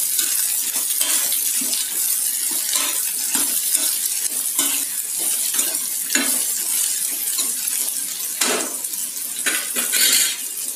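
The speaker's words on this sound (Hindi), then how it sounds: "और घिया डाल देंगे इसमें। और इसे मिक्स कर लेंगे।" Chopped bottle gourd (lauki) stirred in a hot pan with a spoon, giving steady scraping strokes over a continuous soft sizzle, close and fairly loud throughout, with no talking.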